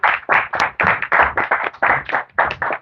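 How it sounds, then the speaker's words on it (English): A gathering of devotees gives a round of applause after chanting the Bhagavad Gita, the clapping coming in loud, closely packed bursts with a rhythmic, pulsing feel and no talking. "Let's give a round of applause to all the devotees of the day."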